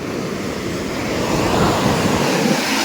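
Sea waves rolling onto Marina Beach in Chennai, a steady broad roar of surf with wind rush, swelling slightly louder midway, with no voices.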